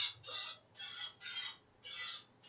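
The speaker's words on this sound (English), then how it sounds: "The birds are happy outside" Birds outside around a bird feeder give repeated bright chirping bursts, about five in a steady rhythm, moderately close and alone with no talk.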